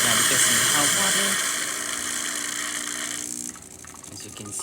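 A DeLonghi espresso machine dispenses hot water with a steady hissing, humming flow and a motor drone, loud at first and then easing off after a few seconds.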